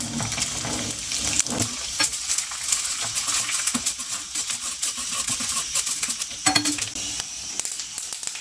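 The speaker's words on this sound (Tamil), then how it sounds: "நான் வந்து வெங்காயம் வடகம் தாளிப்பு போடுறேன்." Onion vadagam tempering in hot oil with mustard seeds and dried red chillies, a loud crackling sizzle with sharp pops and occasional clinks of a spoon against the pan, close and continuous without talk.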